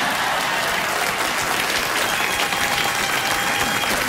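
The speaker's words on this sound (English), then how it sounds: "insult them and then take that insult away and they give you a round of applause now." Studio audience applause on a late-night talk show, a dense, steady wash of clapping filling the whole moment at close, even loudness with no voices on top.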